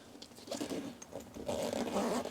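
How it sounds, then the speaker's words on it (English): A vent zipper on a winter transmitter case is pulled in a few short scratchy strokes, close and fairly quiet, with soft rustling of fabric. "You've got a vent zip here"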